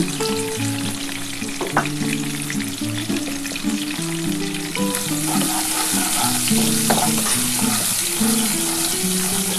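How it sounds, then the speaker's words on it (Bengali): Onions frying in hot oil in a pan, a loud continuous sizzle that thickens toward the end, with occasional clinks and scrapes of stirring. "কিছুটা পেঁয়াজ আমি ভেজে নিচ্ছি"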